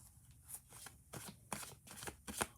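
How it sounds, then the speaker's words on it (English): A deck of tarot cards is shuffled by hand in a series of crisp riffling bursts, several quick papery flutters close to the listener with no talking. "as I do a few more shuffles"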